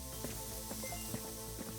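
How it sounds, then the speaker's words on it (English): A spray can hisses steadily at a crime scene in Forensics: Crime Scene Detective, a soft continuous aerosol spray under faint game music with tonal hums, no talking. "So I'm just going to keep spraying."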